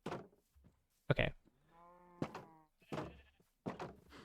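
Sheep in the video game Minecraft, heard as a short close bleat between a few soft thuds and clicks, fairly quiet with gaps of near silence.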